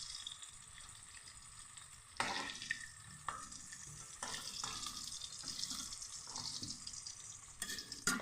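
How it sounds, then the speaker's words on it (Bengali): Potatoes fry in a pan, a continuous hissing sizzle broken by sharp bursts and clatters as they are stirred or moved, with no one talking. "আলুগুলো লাল লাল করে ভাজা হয়ে গেছে"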